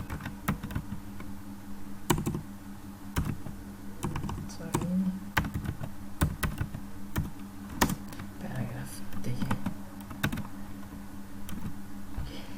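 Typing on a computer keyboard while writing HTML code, a close run of quick clicky keystrokes in irregular bursts with brief pauses, fairly quiet against a low steady hum.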